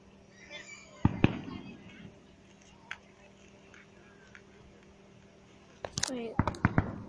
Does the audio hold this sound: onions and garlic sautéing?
no